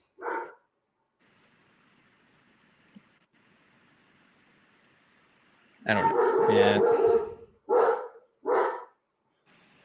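A dog barks indoors in several bursts: one short bark, then a longer run of loud barks followed by two more sharp barks, with a person speaking briefly nearby.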